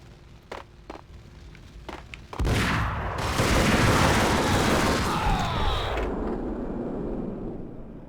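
Grenade explosions in the Max Payne video game: a few sharp clicks and pops, then a loud sustained blast that roars and rumbles for several seconds before slowly fading.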